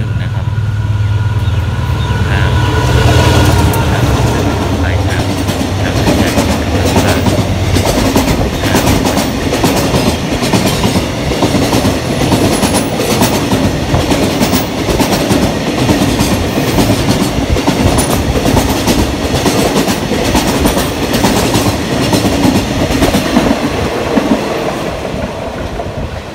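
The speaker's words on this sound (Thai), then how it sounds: "บนสินค้า721นะครับผ่านไปแล้วครับ ผ่านชุมทางหนองประดุกนะครับ" Freight train 721, running from Bang Sue to Hat Yai, rolls through Nong Pla Duk Junction in Thailand with loud, sustained wheel rumble and steady clickety-clack over the rail joints as the wagons pass close by.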